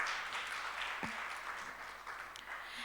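An audience applauding the judges at a university hackathon event, a dense, steady wash of clapping from a hall crowd.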